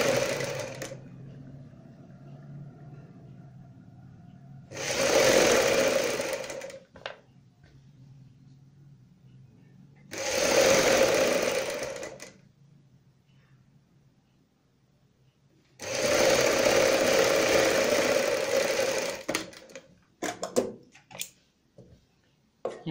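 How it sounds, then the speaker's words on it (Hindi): An electric sewing machine stitches a strip onto a kurti sleeve in three loud runs of a few seconds each, separated by quiet pauses. "इस पट्टी को हम यहाँ पे इस तरीके से रखते हुए सिलाई लगाएंगे"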